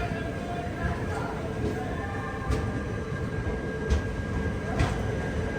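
A passenger train stands at a station platform, its low rail rumble and hum steady beneath scattered clicks and thumps, while people talk nearby.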